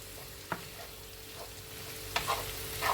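Potatoes frying with onions and spices, stirred in a pan under a low heat, a gentle steady sizzle punctuated by a few close scraping strokes and knocks.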